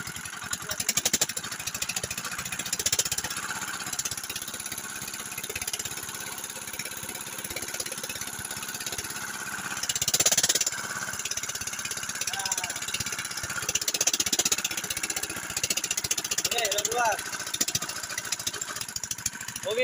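A petrol-powered water pump engine runs steadily throughout, a continuous mid-pitched idling drone with a brief rise in revs near the middle, with faint voices at times.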